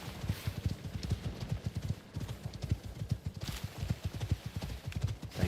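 Horse hooves clip-clop in the survival video game Icarus, a quick, steady rhythmic clatter of close, distinct hoofbeats that runs throughout.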